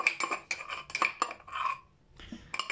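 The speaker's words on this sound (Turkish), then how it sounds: "Şimdi bu sarımsağı içine koyuyorum." Spoon scraping and clinking against a bowl while garlic is stirred into yogurt for a celery salad, a series of close, sharp clinks and scrapes with a brief pause near the end.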